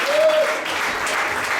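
A church congregation claps and cheers in praise of the Lord, a dense, continuous wash of applause close by, with a raised voice briefly ringing out at the start.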